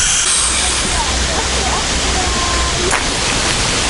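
An air mattress pillow section is inflated by hand. Steady, loud rushing air hisses without a break, with faint voices underneath.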